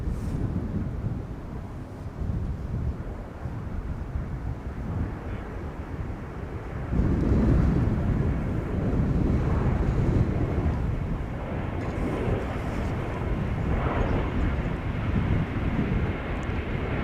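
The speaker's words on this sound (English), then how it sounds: "This is Lufti, flight 2306. It's an A321 arriving from Munich." A Lufthansa A321 airliner arriving from Munich at Schiphol Airport rumbles in the distance, a low steady engine roar that swells partway through amid light wind noise on the microphone.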